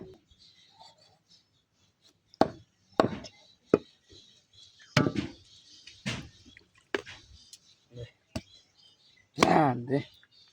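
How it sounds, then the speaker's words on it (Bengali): A knife chops through chicken, landing sharp, irregular thuds one at a time with short gaps between them, fairly close and clear against a quiet background. "অনেকক্ষণ কাটছিস"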